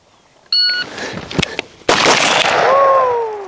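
A single loud, sharp shot from a pistol or carbine at a private shooting class, following a short electronic tone, with a long ringing decay afterward.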